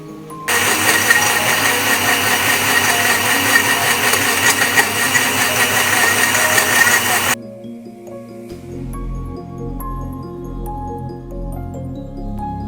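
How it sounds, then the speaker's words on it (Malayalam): An electric mixer grinder whirs loudly while blending banana milkshake, running steadily for about seven seconds before switching off. A softer hum and faint rattle follow. "ഇനി ഇതാ എല്ലാ ഐറ്റംസും കൂടെ ഒരുമിച്ചിട്ട് മിക്സിയിൽ നന്നായിട്ട് അരച്ചെടുക്കുക"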